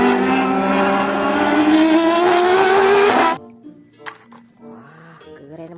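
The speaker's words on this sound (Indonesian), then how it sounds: "ada mobil balap Formula One" A toy Formula One race car gives off a loud, steady revving engine sound effect for about three seconds. It cuts off abruptly, followed by a light plastic clink and faint quiet sounds.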